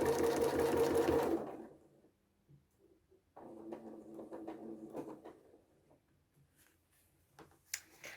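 A sewing machine doing ruler work on a placemat runs in a fast, buzzing burst, stops, then a quieter stretch of stitching and clicks follows.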